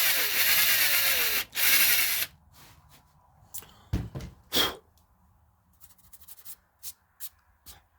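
A power drill with a 1/8 inch bit bores into an electric guitar body: a loud, steady whine for about two seconds, a short pause, then a brief second burst, followed by scattered clicks, rubbing and handling knocks.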